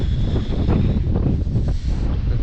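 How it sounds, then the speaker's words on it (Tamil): Strong wind gusting across an exposed hilltop during a trek at Suryanalli near Theni, a loud continuous roar with buffeting on the microphone, no voices. "காற்று சவுண்டை பாருங்க, ஃபுல்லாக காற்று."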